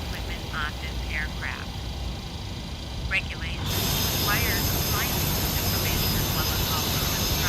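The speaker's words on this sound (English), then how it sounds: "Starting engine 1." A jet engine on a PMDG 737-800 BBJ2 in a flight simulator spools up, a steady rising roar that swells and brightens partway through, with faint cockpit chatter and chirpy tones over it.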